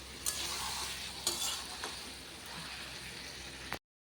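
Chicken and spice paste frying in a pan give a soft, even sizzle with a few sharp clacks of a stirring spoon, close but fairly quiet, then cutting off abruptly.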